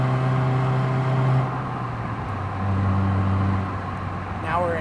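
A 2007 Honda Fit GD3 engine drones steadily as it climbs uphill, a continuous close hum with gear-related pitch shifts and a person talking over it.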